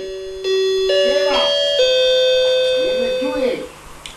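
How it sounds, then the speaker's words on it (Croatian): Newly installed house doorbell rings a clear two-tone ding-dong chime with ringing tails, as people talk over it close by. "Zvoni, zvoni i čuje se"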